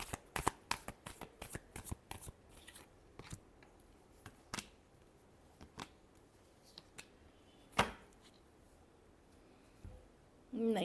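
Tarot cards being shuffled by hand: quick, crisp riffles in a rapid burst at first, then sparser single snaps and flicks spaced out, close and fairly quiet.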